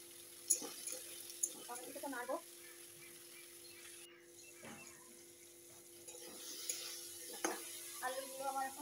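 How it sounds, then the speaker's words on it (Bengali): Potatoes and carrots are stirred in a cooking pan with soft scraping and faint sizzling, a few clinks and scrapes near and quiet beneath occasional talking. "তারপর আমি আলু আর গাজরগুলো আগে নেড়ে নেবো"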